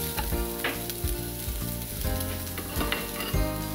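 Pieces of leftover rotisserie chicken browning in a hot pan give a loud, constant sizzle and crackle of frying, heard up close and without any talking.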